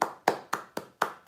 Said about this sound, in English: Let's give a little round of applause for the people in the comment section.